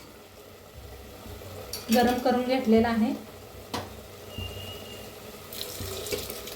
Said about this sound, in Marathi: आता ओतूया ह्याच्यात दूध